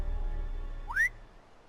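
A character in Telltale's Game of Thrones video game gives one short rising whistle, clear and close, over a low ambient game hum.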